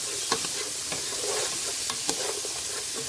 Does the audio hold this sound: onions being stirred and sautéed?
yes